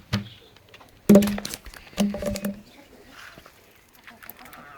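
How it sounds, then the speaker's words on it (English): Chickens cluck in short, scattered bursts at feeding time, a few sharp calls close by with quieter clucks between them. "is how you feed chickens."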